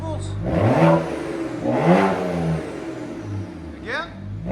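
A straight-piped 2010 BMW 135i with a 3.0L inline-six revs hard in two loud rising-and-falling bursts, then settles to a rumbling idle before a short final blip, heard up close.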